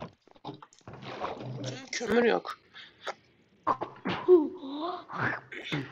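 A single sneeze bursts out amid casual talk during a Minecraft survival gaming session, with people chatting around it throughout.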